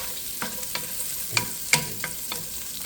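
Red onion and sliced kielbasa sauté in a pan, a soft steady sizzle broken by several sharp scrapes and clatters as the pieces are stirred around, with no talking.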